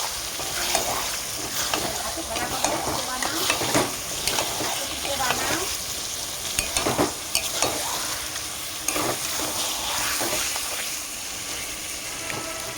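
Chicken stirred and fried in a pan with sautéed onions, a loud continuous sizzle broken by scraping spatula strokes, close up with no talking.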